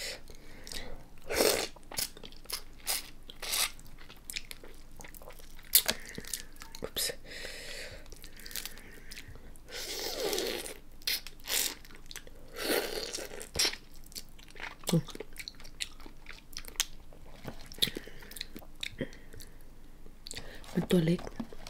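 Close, crunchy chewing and biting of spicy Spanish red prawns in fish sauce with crisp fried vegetables, repeated bites spread across the stretch, with soft whispered speech between them.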